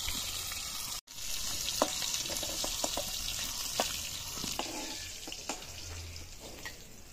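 Fish head frying in oil left from frying fish, a steady close sizzle with scattered pops and clicks and one abrupt cut near the start.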